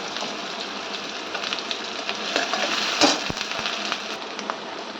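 Garlic and onion fry in oil with cumin and dried chillies for a khichuri tempering, producing a steady, close sizzle with a few brief clinks and stirring scrapes.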